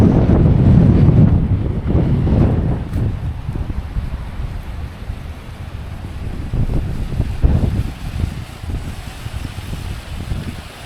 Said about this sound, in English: That wind is kicking.